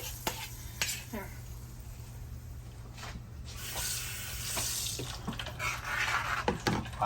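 Water runs from a tap into a sink in a home kitchen during curry cooking, a continuous hiss with brief splashes and clatter, while people talk faintly in the background.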